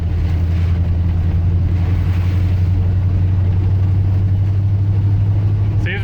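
Steady engine drone of a car with a 5-speed manual transmission driving along, a constant low rumble with road noise throughout and no clear gear changes.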